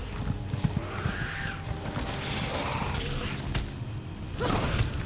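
Video game horse hooves in Elder Scrolls Online: rhythmic clip-clop trotting steadily, with faint creaks and a soft snort, continuous and fairly close.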